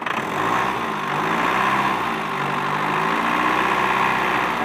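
A car engine runs steadily and loud during a jump start, its low rumble rising slightly as the throttle is pressed, with no voices over it.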